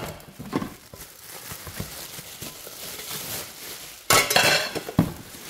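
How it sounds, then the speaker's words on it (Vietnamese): A metal pot lid from a Japanese domestic cookware set is lifted and set aside, with soft handling scrapes and then a louder, brief clatter of metal near the end. "Nắp vung này. Để em bỏ ra ngoài đã nhé."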